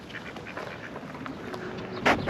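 Ducks quack faintly at a distance, with a slightly louder burst near the end over a low, steady outdoor background.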